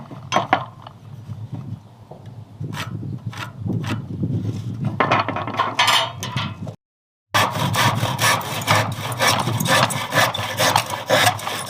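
Wood is sanded by hand with 120 grit sandpaper in steady back-and-forth rasping strokes, close and fairly loud, broken by a brief silent gap before the rhythmic scraping resumes.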